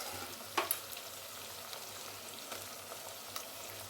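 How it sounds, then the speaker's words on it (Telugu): Ginger garlic paste fries in a pan for chicken dum biryani. It gives a steady, soft sizzle with a couple of sharp clinks of a utensil near the start, and no one speaks. "అల్లం వెల్లుల్లి పేస్ట్ వాసన పోయేదాకా మనం వేయించాలి"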